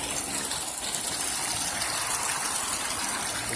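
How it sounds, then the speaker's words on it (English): Water gushes up out of the ground from a leak in a city street in Oakland, a steady, loud, broadband rushing roar that stays close and continuous throughout, with no talking over it. "the street is literally fucking leaking"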